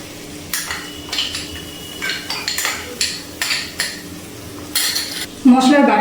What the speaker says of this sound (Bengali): এবার আমি পেস্ট করা মশলাটা দিয়ে দিচ্ছি।